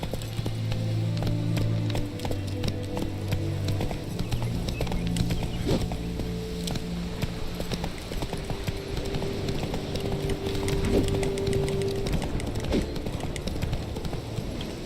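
Horse hooves clip-clop steadily while riding in The Witcher 3 video game, a continuous near rhythmic trot with brief whinnies and soft game music underneath.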